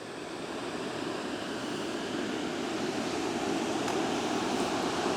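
The waterfall at Eidsbugarden roars in a constant, dense rush of falling water, steady and loud throughout with no pauses or talk.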